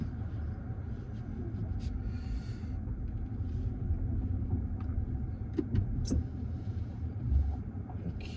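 A BMW i4 M50 electric car pulls away in comfort mode, giving a steady low road rumble and tyre noise from inside the cabin with a few faint clicks and rattles and no engine note.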